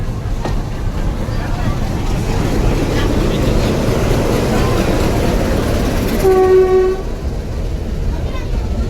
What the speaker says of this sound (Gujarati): તો એક ટ્રેન અત્યારે આવી છે YDM4.